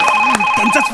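A short burst of a ringing telephone tone, with a voice briefly overlapping it.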